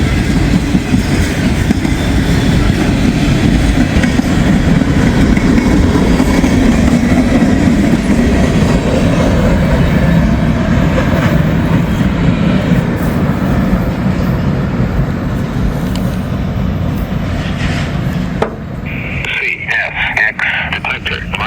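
A long, big freight train rolls past on the main line, a loud continuous rumble with rail clatter that holds steady before easing toward the end, where a brief squeal and a voice break in.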